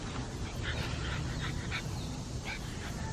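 Female bully breed dogs whimper and whine softly in short high yelps against a steady, noisy background hum, fairly faint and without talk.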